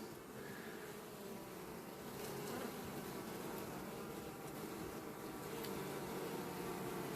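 Many honey bees buzz at a hive in a dense, steady drone close by, a continuous hum with no talking.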